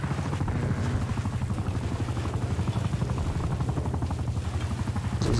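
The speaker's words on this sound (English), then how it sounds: "Hostile attack helicopter inbound." An attack helicopter hovers overhead in a multiplayer shooter video game, its rotor chopping in a steady, loud, rapid beat throughout.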